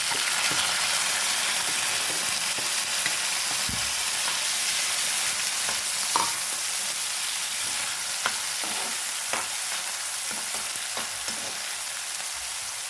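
Chopped onions and green chillies frying in hot oil for a spicy yam and dried prawn curry, giving a dense, even hiss throughout with occasional light stirring taps and scrapes.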